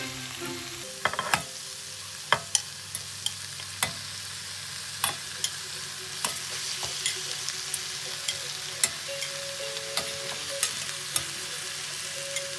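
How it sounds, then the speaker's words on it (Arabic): Chicken pieces fry with onions in a pan seasoned with black pepper and curry, giving a steady sizzle broken by sharp clacks of a utensil stirring and scraping, close and alone with no talk. "هسه ابدي ارجع الدجاج على البصل هذا الشكل"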